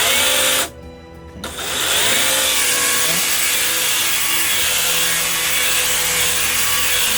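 A small 40V cordless brushless top-handle chainsaw with a 25 cm bar starts with a sharp burst, then runs at a steady, loud, high-pitched whine with no one talking.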